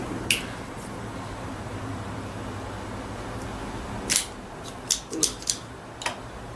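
A Morro Castle Cuban cigar is clipped with a few quiet, sharp snips and clicks near the end, after a faint first click, over a low steady room hum with no talking.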